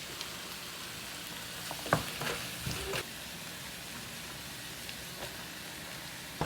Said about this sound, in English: I will continue to stir